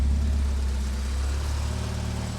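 A Mercedes 240d diesel settles into a steady idle just after starting, a loud, close low rumble with a throaty exhaust note and no talking.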